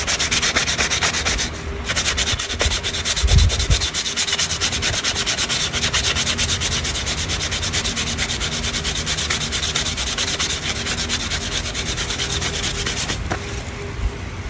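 A slingshot carved from lemon-tree wood is sanded by hand, a close, continuous rasping scrub with rapid back-and-forth strokes and a brief knock partway through.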